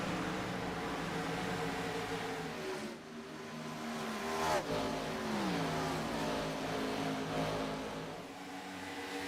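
A race car engine in a stock-car racing simulation at an Atlanta oval revs and drones continuously, pitch rising and falling as it runs laps, steady and moderately loud.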